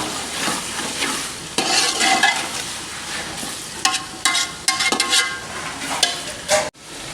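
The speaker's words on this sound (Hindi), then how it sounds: "इत्थे हुण इतनी तक इसकी बुनाई करसां जितने तक साढ़े टमाटर हल नहीं हो रहे।" Tomatoes and green chilies fry in a pan for a bhindi tarkari, sizzling steadily while a spoon stirs and scrapes in repeated close strokes, with a faint car horn in the distance.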